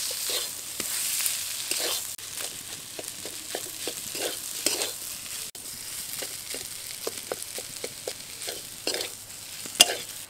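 Boiled potato being stirred into spice masala in a pan for a Bengali aloo bread chop, with a soft steady sizzle under repeated scraping strokes of a spatula, close and moderately loud, no talking.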